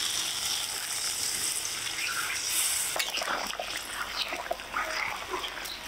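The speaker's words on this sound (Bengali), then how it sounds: "এবারই ঝোলের জন্য জল দিতে হবে।" Water poured into sizzling potato masala for a rui fish curry gravy, a loud, steady hiss and splattering sputter that grows busier with bubbling and spitting about halfway through.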